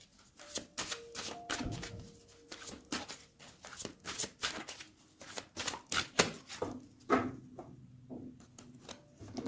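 A deck of tarot cards being shuffled and cut close by, with repeated crisp riffling bursts and light slaps in an uneven rhythm.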